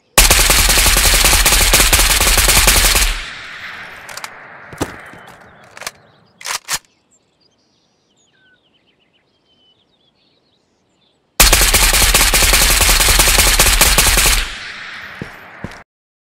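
Sustained automatic gunfire from a rifle fitted with an RK6 grip in Ghost of Tabor, a loud continuous burst of about three seconds, then scattered single shots and silence, followed by a second long burst near the end.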